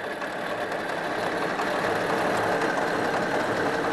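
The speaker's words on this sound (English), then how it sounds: "The engine is a simple air-cooled VW unit, like was also driven in the first Beetles." Steady mid-pitched running of a simple air-cooled Volkswagen engine, Beetle-derived, powering a Type 166 amphibious car, a continuous even drone held at constant loudness throughout with no talk.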